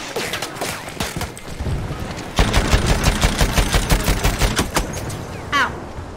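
Revolver gunfire in the video game Battlefield 1: a run of loud, sharp shots, sparse at first, then a rapid close burst of many cracks amid battle noise, easing toward the end.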